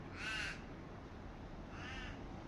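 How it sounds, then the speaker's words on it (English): Two loud crow caws, one near the start and another just before the end, each rough and harsh over a steady low hum, with no voices. "The crows are cawing as well."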